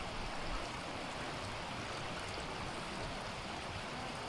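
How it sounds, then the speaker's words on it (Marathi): Clear mountain stream water rushing steadily near Amboli waterfall in Junnar during the monsoon, a close, continuous, full-bodied flowing roar with no voices. "हे बघा पाणी वाहतं, आणि हे शुद्ध पाणी असतं"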